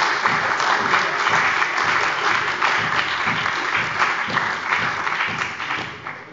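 Sustained applause from the benches at a parliamentary plenary session during a government statement on fiscal equalization: steady, dense clapping from many hands throughout, with no pause before it fades slightly at the end.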